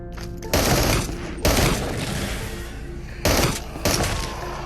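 Loud, rapid bursts of automatic gunfire from a gun in the shooter game Into the Radius, four sustained volleys separated by brief gaps, close and dense.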